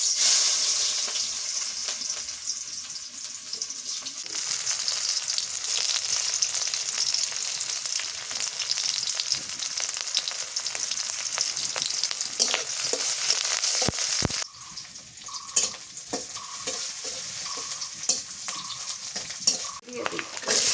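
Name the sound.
papaya and onion frying in oil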